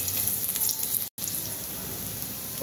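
A spoonful of chopped garlic fries in about two spoons of hot oil, producing a loud, steady sizzle that hisses continuously with one brief dropout.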